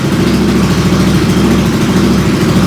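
A Royal Enfield Interceptor 650 motorcycle with its silencers removed idles steadily, a loud, close, throbbing low rumble that stays even throughout with no talking.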